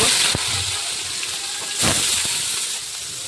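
Poppy seeds hitting hot oil while vegetarian thor bhaja is cooked for a Vaishnava feast at home, giving a loud, steady hiss and sizzle with a few sharper crackling bursts, close up and without talk.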